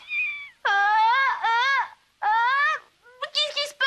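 A small kitten meows repeatedly and clearly, several drawn-out, rising and falling cries close by, with short pauses between them and a busier chirping burst at the end.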